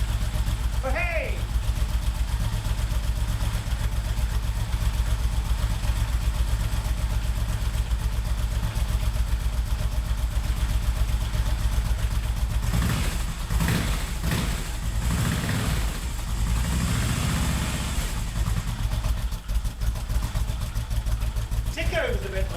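Long-stored engine idling on a low tickover after being woken up, a steady near chug that runs throughout, with a brief flare of revs midway and short bursts of talk over it.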